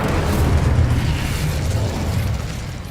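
A fire spell is cast in the Hogwarts Legacy video game, a loud, sustained roaring burst of flame with rumbling low end that holds steady for the full three seconds.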